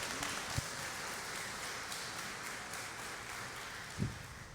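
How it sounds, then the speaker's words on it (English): A crowd applauds at a live game event, a continuous even wash of clapping from many people with a couple of louder isolated claps, no talking. "Let's give these two a round of applause."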